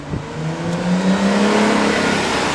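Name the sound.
car engine revving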